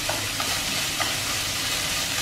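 Meat stir-frying in a pan, a steady broadband sizzle with a few soft scraping clicks of stirring, close and continuous with no talking.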